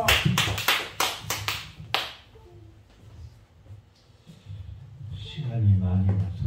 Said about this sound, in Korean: 다시 한번 박수 영광 드립니다.